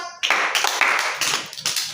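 Sharp hand claps from a group clapping together on cue, several bright overlapping slaps in quick succession rather than a clean pair, close and fairly loud with no talking.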